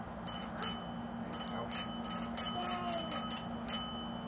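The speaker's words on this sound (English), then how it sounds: "The bell." Bright metallic bell strikes ring in quick irregular clusters, loud and close, inside a dark room during a family drumming session.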